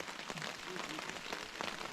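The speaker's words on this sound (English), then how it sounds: "Don't really want to pack up in the rain" Rain falls steadily on a riverside campsite by the Current River, a soft, even hiss of many drops pattering on surfaces close by with no break.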